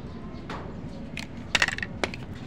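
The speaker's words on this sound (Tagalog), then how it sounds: "Dahil manipis to, kayang-kaya ng gunting yero or gunting ng paring." Tin snips cut through thin PVC pipe, a few sharp, crisp snipping crunches heard up close against a quiet room background.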